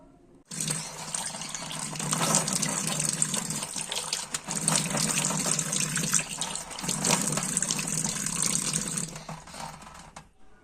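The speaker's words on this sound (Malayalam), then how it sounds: "ഇപ്പം മുഖത്തെ ഫേസ് പാക്ക് കഴുകി കളഞ്ഞു കേട്ടോ" A tap runs water steadily while a face pack is washed off, a close, continuous splashing gush with slight breaks and shifts as hands move through the stream, starting and stopping abruptly.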